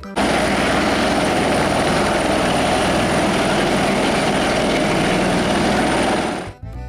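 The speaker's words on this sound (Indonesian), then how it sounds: "di sini ada helikopter" A helicopter gives a loud, steady, close whirring roar with a dense rotor and engine wash that holds evenly for several seconds, then cuts off abruptly.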